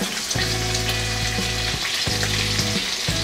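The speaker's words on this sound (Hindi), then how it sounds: "जीरा अच्छे से भुन गया, अब इसमें 1 टेबलस्पून करीब कुटी हुई अदरक डाल देंगे" Crushed ginger fries with cumin seeds in hot oil, a loud, dense sizzle running throughout, with a few faint knocks and scrapes of a utensil.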